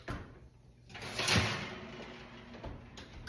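A kitchen oven door opens as a pan of grain-free granola is lifted out, with a soft thud and clatter mid-clip standing over a quiet room hum.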